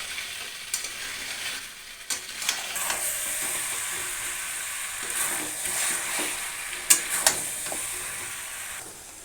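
Chicken being sautéed in a pan for a Bengali chicken curry, with a continuous bright sizzle and irregular scraping stir strokes and clinks, close and fairly loud throughout.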